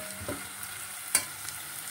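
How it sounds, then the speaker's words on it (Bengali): Onion with ginger and garlic paste is stirred in a pan over a quiet, continuous sizzle, with one sharp utensil tap and a few soft scrapes. "দিয়ে আদা বাটা রসুন বাটাটার সাথে আবারও পেঁয়াজটাকে ভালো করে মিশিয়ে নেব।"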